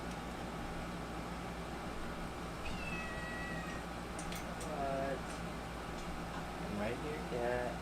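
A house cat meows several times indoors at night, short plaintive calls close by over a steady background hum, with a person talking at times.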